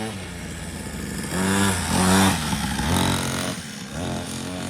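A young rider's motorized dirt bike on a homemade full-size dirt track, its mid-pitched engine revving up and easing off in a couple of nearby surges.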